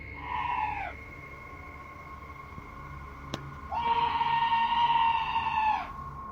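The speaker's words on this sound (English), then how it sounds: "this scream sounds like chills made audible, happening outside the door of what appears to be a trailer" An eerie, high wailing scream outside a trailer door, two long drawn-out cries with a wavering pitch, the second louder and fuller, carrying over a steady background hum with a sharp knock between them.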